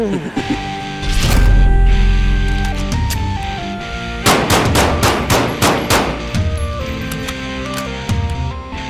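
Rifle shots from a Bear Creek 7.62x39 AR-15 upper fired outdoors at a range, a loud burst of several sharp cracks in uneven succession with ringing echoes between them.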